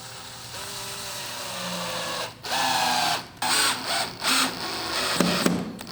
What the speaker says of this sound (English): we can go ahead and drop our screws and put our screws here